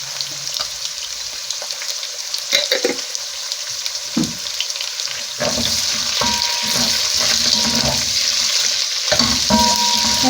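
Raw beef meat added to a hot pan over softened onions for Kenyan beef matoke, a loud close sizzle that starts with a few clatters and stirring sounds, then settles into steady frying.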